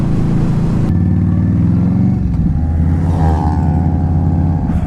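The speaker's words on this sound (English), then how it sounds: "Open exhaust on a Nissan Sentra." A Nissan Sentra with an open exhaust revs loudly nearby, its engine note climbing and dropping through several throttle blips with a raw, rumbling tone.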